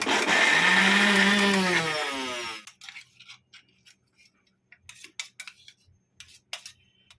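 Electric mixer grinder whirring loudly as it grinds mustard seeds and garlic, its motor pitch rising then cutting off, followed by faint clicks and rattles of the jar and lid.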